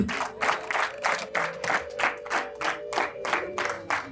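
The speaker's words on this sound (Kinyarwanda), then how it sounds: "namwe mutere impundu nyaboneka mu biha amashyi" Wedding guests clap in a steady rhythmic beat, with bursts of about twelve claps alongside a sustained high ululating tone running beneath, sounding close and lively at a festive celebration.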